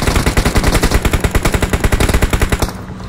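Rapid automatic gunfire in the battle royale game BGMI: a loud, close burst of evenly spaced shots lasting nearly three seconds before cutting off abruptly.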